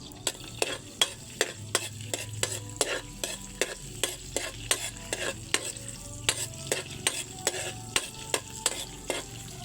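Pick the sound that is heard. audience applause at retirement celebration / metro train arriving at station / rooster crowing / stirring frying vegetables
stirring frying vegetables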